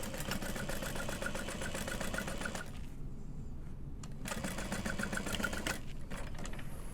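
A sewing machine stitches a seam on a handbag, running in a fast, steady rhythmic whir, pausing briefly and then continuing close by.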